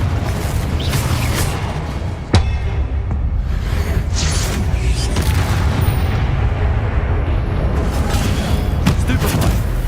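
Confringo, an explosive spell in Hogwarts Legacy, lands as a sharp burst partway through amid rumbling game combat noise, with smaller impacts around it and a player speaking over the din.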